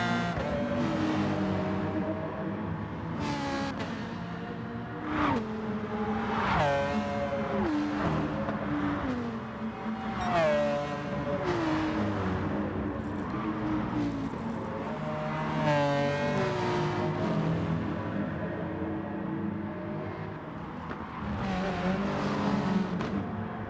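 Race car engine in Gran Turismo Sport at Sardegna, a loud, continuous high-revving drone climbing and dropping through gear shifts, with brief slides of the tires through corners.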